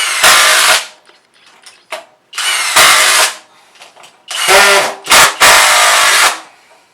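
A Kobalt XTR impact driver fires in a timed test, sounding as loud, close bursts of harsh hammering whir separated by brief pauses, with two or three short stops and restarts.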